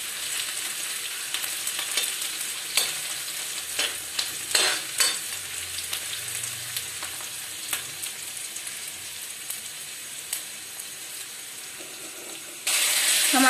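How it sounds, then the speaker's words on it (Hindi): Onions fry in a pan for arbi and tori sabji, a steady close sizzle broken by repeated scraping strokes of a spoon as they are stirred, with a louder hiss flaring at the very end. "प्याज को अच्छी तरह भून लेते हैं।"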